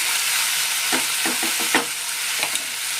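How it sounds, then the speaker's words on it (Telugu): Tomato pieces being fried and stirred into an eggplant curry, with a steady close sizzle of hot oil and several soft scraping stirs spaced through it, no voices. "ఇప్పుడు ఈ టమాటా ముక్కలు దీంట్లో వేస్తున్నాం"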